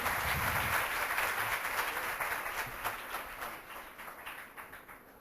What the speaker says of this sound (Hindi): तालियां सभी के लिए